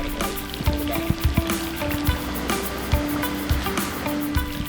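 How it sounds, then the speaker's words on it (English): An off-road vehicle punches through a rocky creek crossing on a remote bush track, water splashing and hissing steadily around it with irregular knocks and thumps from rocks underneath and a low engine hum beneath. "Oh, here we go. Water crossing."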